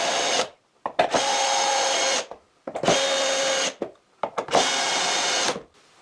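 A power drill bores screw holes through a router table board in three long bursts, each a steady loud whine about a second and a half long, with short pauses and clicks between them and no talking.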